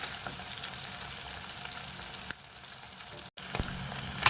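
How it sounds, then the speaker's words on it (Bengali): Amudi fish pieces frying in hot oil, a steady close crackling sizzle running throughout with a short break near the end. "উল্টো দিকটা ভেজে নেব মাছগুলো একটু বেশ ভালো করে ভাজবো"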